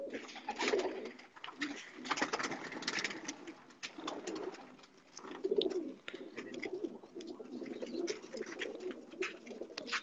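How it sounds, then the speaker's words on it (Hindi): Pigeons cooing nearby in soft, repeated throaty phrases that recur steadily, fairly quiet, with no voices over them. "कबूतर"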